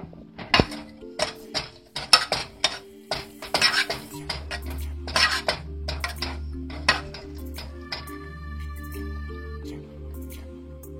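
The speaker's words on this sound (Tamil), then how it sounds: "அப்படியே எல்லாத்தையும் போட்டு பச்சையாக எல்லாத்தையும் பச்சை வாசனை போகிற வரைக்கும் வதக்கணும்" Ground masala is sautéed in a pan, with repeated close clanks and scrapes of a metal spoon against the pan in an uneven rhythm, plus a low steady hum beneath.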